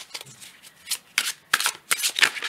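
Tarot of the Dream Enchantress cards shuffled by hand in a series of quick riffling bursts, crisp and close, roughly six or seven brisk flutters of paper over a couple of seconds, no talking.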